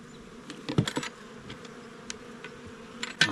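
Carniolan honey bees grafted from a defensive hive buzz around a nuc in the apiary, a near, steady hum with sharp passing buzzes and light clicks and knocks from handling the hive.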